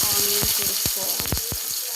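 Onions tossed into hot oil in a pan sizzle loudly and steadily up close, with repeated scraping and stirring clicks over the continuous frying hiss.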